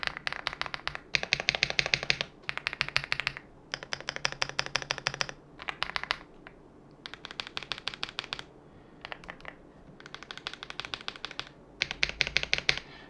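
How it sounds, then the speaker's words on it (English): Close-up typing on a Mechlands Vibe 75 mechanical keyboard comes in fast rapid bursts of crisp clicky keystrokes separated by short pauses, loud and near. "So if we can get close to the keyboard just like so and maybe do a type test."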